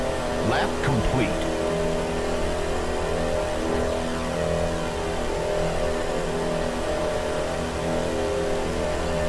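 Race cars in a Halo racing game run continuously with a steady, dense engine drone, several cars close together on track, under a race commentator's voice.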